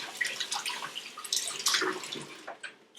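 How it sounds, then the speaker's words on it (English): Cold tap water runs in a kitchen sink to rinse a minor burn, a faint steady splashing trickle with small irregular drips and spatters. "Then rinse with cold water"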